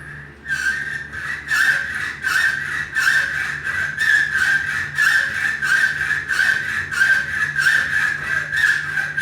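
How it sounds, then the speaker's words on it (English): Hacksaw cutting through old bike cable housing, a close, loud run of steady back-and-forth strokes with a rasping, whistling edge, keeping an even rhythm throughout. "taking a simple hacksaw, we're going to hacksaw one side out of this"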